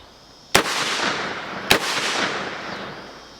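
A DP-12 double-barrel pump shotgun fires buckshot twice, about a second apart. Each blast is sharp and loud, with a long ringing outdoor decay.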